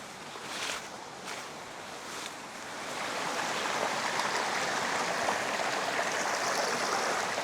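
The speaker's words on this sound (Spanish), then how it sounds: "Vean, amigos, qué bonito que está este río en el que me encuentro el día de hoy." A river runs over mossy rocks in a steady, close rush of water, a broad continuous wash that grows slightly fuller after the first few seconds, with no voices.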